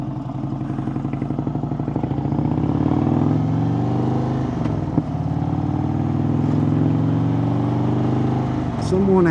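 Indian Springfield Dark Horse motorcycle cruising on the road, a steady engine drone with harmonic hum and wind rush throughout, holding a constant pace with a brief bump near the middle.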